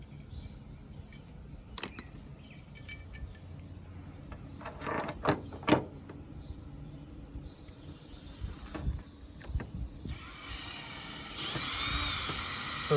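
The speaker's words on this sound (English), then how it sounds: "So this is just to hold it in place while I drill the top hole." A power drill whirs in short bursts with pauses between while installing a hook on an Airstream trailer, then runs in a louder, steady stretch near the end.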